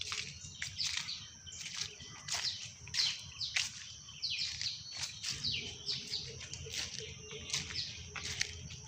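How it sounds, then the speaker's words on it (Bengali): Rapid high chirps and tweets from a small bird in a mango orchard repeat in quick bursts, close by, over a low steady background hum. "ছোট পাখি তো"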